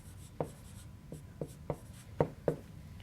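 Pen or chalk tapping and scratching out math equations by hand, six or seven sharp, quiet strokes spaced irregularly with soft rubbing between them.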